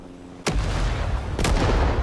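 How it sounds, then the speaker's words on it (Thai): Two sharp, heavy booms from explosions in a free Vietnam War shooter video game, about a second apart, each followed by a sustained rumbling roar. "ระเบิดมาแบบไม่หยุดเลย"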